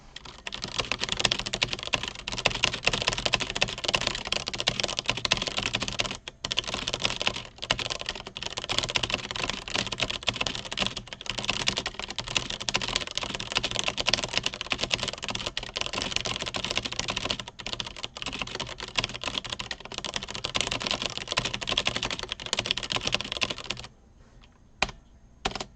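Rapid, steady typing on a computer keyboard, keys clattering continuously for a long stretch before slowing to a few scattered taps.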